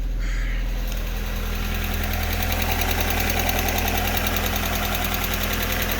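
An Alfa Romeo 145 engine catches and settles into a steady, loud idle, with a constant low rumble and faint knocking throughout and no talking.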